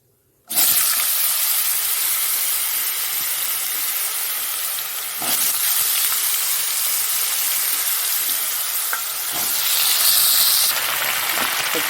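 Potatoes dropped into a hot pan burst into a loud, sudden sizzle that holds as a steady bright hiss for several seconds.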